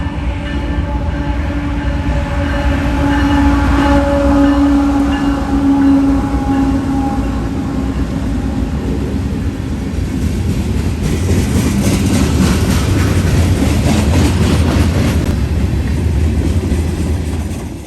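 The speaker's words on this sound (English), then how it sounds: "179 led today by a BNSF GEVO and an NS-944CW on the head end." A freight train headed by a BNSF GEVO and a Norfolk Southern locomotive roars past with a heavy engine drone, a steady rumble and rattling wagons that grow brighter and busier toward the end.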